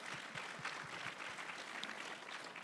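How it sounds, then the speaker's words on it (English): Clapping at a vocational education conference, a steady patter of many hands that sounds moderately distant and soft, continuing evenly for a few seconds without any talk. "Round of applause."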